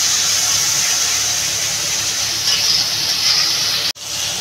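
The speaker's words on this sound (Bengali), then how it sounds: "আমি জল দিয়ে দেবো বন্ধুরা।" Water hits a pan of hot fried masala with onion and tomato for a Bengali tilapia curry, giving a loud, steady hissing sizzle that holds throughout, then cuts out abruptly for a moment before resuming.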